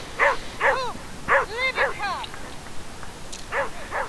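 Libby, a dog running an agility course with weave poles, gives a string of sharp, high yips and barks in pairs and short bursts, fairly close, over steady outdoor background noise.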